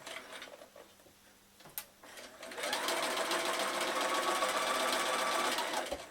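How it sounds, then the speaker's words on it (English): A sewing machine runs close and steady for a few seconds, stitching a seam on a Christmas card hanger after a brief quiet start and a single click. "You want to start stitching a little away from the edge of the seam that you want to stitch."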